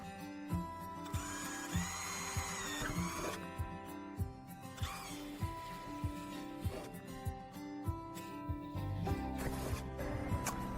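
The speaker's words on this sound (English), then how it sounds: "Drill through the outer plate and the reinforced plate that is located just behind it." Drill boring through the outer plate and reinforced inner plate of a Maxus E Deliver 3 van door, a steady mechanical whir with regular ratcheting pulses, close and moderately loud.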